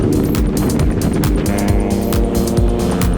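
A small-capacity motorcycle engine on a highland ride near the Laos border revs hard and loud, rising and dropping repeatedly as the rider shifts through several quick gear changes, with no talking.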